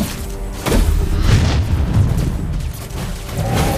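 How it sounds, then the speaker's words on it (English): Turret destroyed in the Mobile Legends video game, a loud deep boom erupting about half a second in, followed by rumbling blasts and battle noise. "Your team destroyed a turret."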